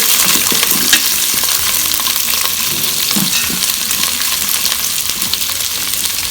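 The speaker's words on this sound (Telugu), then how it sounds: "ఇది కొంచెం ఇలా ఫ్రై చేసుకోవాలి." Ingredients fry in a Geek Robocook electric cooker, a steady loud sizzle with occasional scraping and light knocks of a utensil stirring through the food, no voices.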